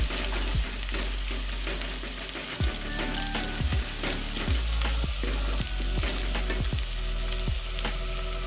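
Steady sizzling of garlic ginger paste frying in a pan with occasional stirring scrapes and clinks, continuous and moderately loud, no voices.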